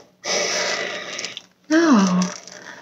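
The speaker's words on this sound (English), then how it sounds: "what I do hear is it breathing" A toy producing breathing sounds, a long airy inhale followed by an exhale with a voiced tone in it, close and soft, two breaths in total.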